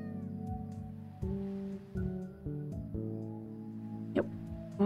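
Cartoonish meows from cats in the video game Summer Paws, heard as a few short mews over looping upbeat game music with steady chimes, one brighter cry near the end.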